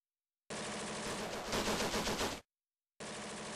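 Heavy machine gun fire rattles in a sustained burst during a WWII paratrooper drop in spring 1944. It is loud and close, with rapid shots blurring into a roar, then cuts off abruptly before another burst starts.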